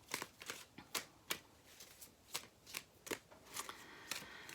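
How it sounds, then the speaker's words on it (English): Tarot cards are shuffled up close in a quiet room, a quick series of crisp riffling flutters repeating at an even pace. "So I'm going to shuffle these for a minute just to get the feel out."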